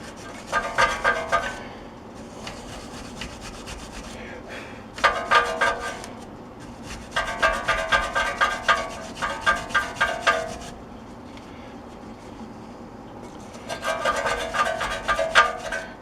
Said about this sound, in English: take a bit of a wire brush and just clean up where the pads ride